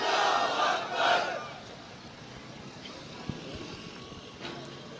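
An outdoor political rally crowd shouting back the Nara-e-Takbir slogan, a loud massed roar of voices in two surges during the first second or so, then fading into distant murmur and open-air background noise.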